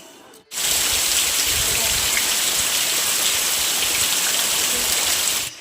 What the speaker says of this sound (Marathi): घरी आल्यानंतर इतका पाऊस पडला आहे